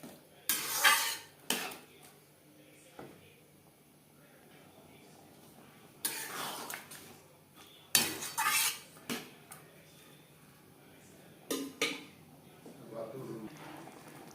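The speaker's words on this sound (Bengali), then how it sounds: "চিকেনের সাথে মটর বেশ ভালো করে মিক্সড করে দেবো।" Metal spoon scraping and clinking in a pan as peas are stirred into chicken for Bengali chicken ghugni, coming in short scattered bursts over a quiet background; a voice speaks briefly.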